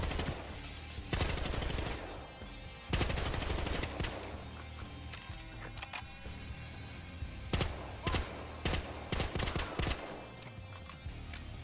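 Gunfire in the shooter game Battlefield Hardline: loud bursts of automatic fire and single heavy shots come in clusters, with short gaps of game ambience between them.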